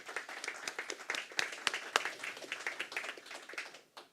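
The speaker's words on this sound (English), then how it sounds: "Then I would say thanks to the panelists with an applause." A seminar audience applauds the panelists, a modest crowd clapping in quick, uneven bursts that swell midway and thin out toward the end, heard at moderate volume with no speech.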